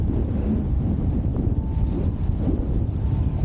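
Gusty wind buffets the microphone while wing foiling upwind on small westerly bumps, a steady loud low rumble with wave and water wash underneath, no talk.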